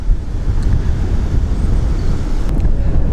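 Strong wind buffets the microphone beside a canal while short pole fishing, a loud, close, steady low rumble with gusty roar throughout.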